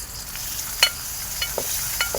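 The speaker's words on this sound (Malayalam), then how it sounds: "ഇനി അതിനകത്തേക്ക് നമുക്ക് ഉള്ളി അരിഞ്ഞ് വെച്ചതിടാം ഇനിയിപ്പോൾ നല്ലപോലെ ഒന്ന് ഒന്ന് വാട്ടിയെടുക്കണം" Chopped onions sautéing in a pan for a dill leaf stir-fry, a soft continuous sizzle with occasional scraping stirs, close and alone.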